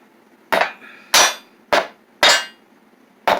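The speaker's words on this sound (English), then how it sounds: "Or I can drive it in with a hammer." A hammer drives a fastener into drywall in five sharp, loud strikes spaced about half a second apart, each ringing briefly before the next, with no talking.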